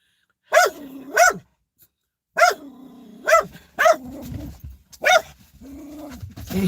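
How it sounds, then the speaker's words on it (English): A dog barks at cats in a residential neighborhood, six loud, sharp barks arriving in uneven pairs and singles close by, with low growly rumbles between them. "And hell, he barking at cats."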